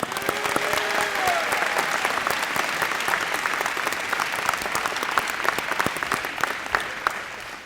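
A crowd gives a sustained round of applause for graduates at a Perry Technical Institute graduation, dense clapping with individual sharp claps standing out, while a brief voice is heard under it early on.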